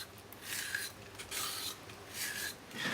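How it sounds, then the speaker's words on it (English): A vegetable peeler is drawn down the edge of a papaya to shred it finely for a Vietnamese salad, producing quiet, repeated rasping strokes in a loose rhythm, faint and close. "I can literally just take my peeler, and I'm just going to run the peeler down the edge, like that."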